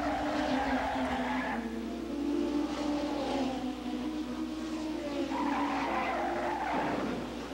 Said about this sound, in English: the wall gets in the way again, forcing a disastrous 360 degree, resulting in a wheel in search of the driver